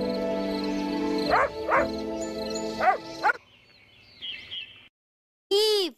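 A dog gives a few quick yips and barks over a musical backing in a children's alphabet phonics song, followed by a brief quieter passage and a final bright tone.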